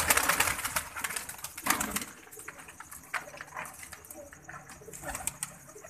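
A pigeon, a female with a pearl-spotted neck, coos in soft repeated bursts at close range, with faint wing flutters and rustling around it and no talk.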